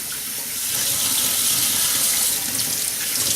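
Tap water runs steadily into a sink while tomato seeds are rinsed, a loud, continuous rushing splash close by with no talk.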